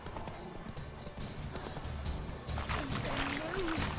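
Hooves of Roach, a horse in The Witcher video game, clip-clop steadily at a trot. The hoofbeats are close and continuous, set against background game ambience, with a brief voice toward the end.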